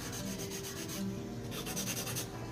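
A nail file rubs steadily against acrylic nails to finish their shape, a quiet, rhythmic rasping of fast back-and-forth strokes heard close up with no talking.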